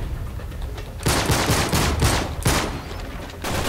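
Pistol fire in the action game Uncharted 3, with several loud gunshot bursts at irregular intervals over a busy combat background.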